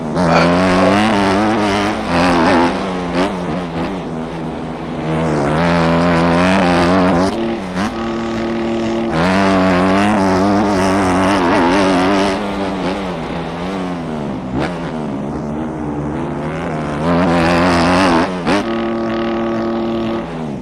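A car engine with a cracked muffler revs loud and close in long surging pulls, droning and rasping, with dips between bursts and no one talking.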